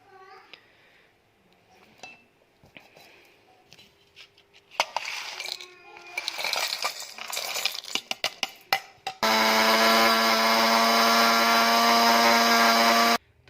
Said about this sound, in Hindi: अब हम इसको मिक्सी में डालकर इसका पाउडर बना लेते हैं